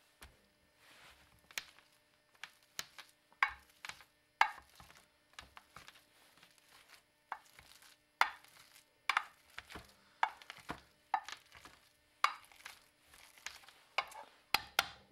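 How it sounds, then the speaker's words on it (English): Bananas get mashed with a potato masher in a bowl, a close run of irregular soft thuds and squishy knocks with brief pauses between bursts and no talking. "This thing, the potato masher."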